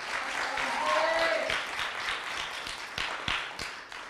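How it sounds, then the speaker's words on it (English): Audience applause at a high school performing arts awards night, a moderate, fairly distant patter of clapping that tapers off, with a voice briefly audible over it. "give her a big round of applause anyways"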